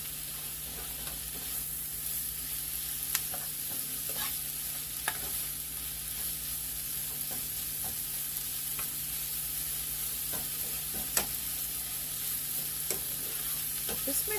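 Onions softening in a pan for a kale and onion crustless quiche give a steady, even sizzle throughout, with occasional light clicks of a utensil stirring them.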